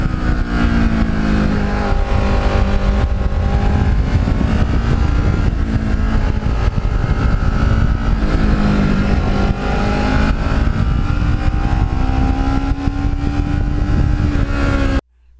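A Kawasaki Ninja motorcycle rides along with a steady, loud engine drone and rushing wind, pitch rising and falling gently as it cruises without pause.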